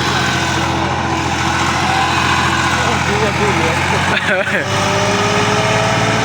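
A loaded tractor labours up a slope, its engine droning loud and steady throughout, with a brief rattling disturbance near the end and people talking over it.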